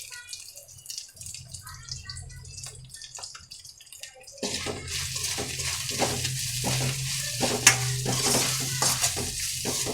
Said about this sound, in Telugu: అల్లం వెల్లిపాయ పేస్ట్ వేగింది కదండి